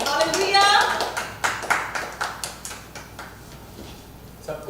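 A church congregation claps to welcome a preacher, with a burst of applause fading into scattered individual claps while someone speaks.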